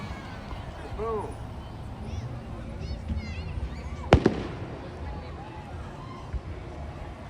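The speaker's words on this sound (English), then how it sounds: "We're watching the Matako fireworks." Fourth of July fireworks at Deerfield Park go off in the distance: one sharp loud bang with a quick follow-up crackle over a murmuring outdoor crowd, with people talking nearby and whistling launch sounds.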